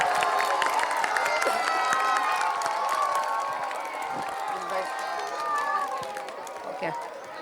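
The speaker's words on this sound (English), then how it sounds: "So a huge round of applause for Suprabha ma'am." Crowd cheers and claps at an annual school concert, a steady, loud wash of applause with shouts and chatter filling the whole stretch.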